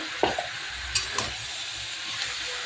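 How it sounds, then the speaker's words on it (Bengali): Chicken pieces with salt and turmeric stirred in a hot pan for chicken kosha: a continuous hissing sizzle broken by a few sharp spatula knocks and scrapes, close by. "দিয়ে এবার এটাকে আমি মাংসটাকে নেড়ে চেড়ে"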